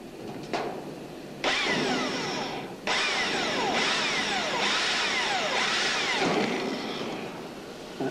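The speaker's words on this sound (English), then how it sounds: "I'm just going to put a pilot hole through." A power drill whines in several bursts while drilling a pilot hole, pausing briefly between them, loud and close, with its pitch rising and falling as it bores.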